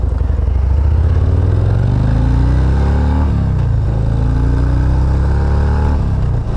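Harley motorcycle pulling away from a green light, its loud engine revving up through the gears with rising pitch, shifting partway through and continuing to accelerate close by.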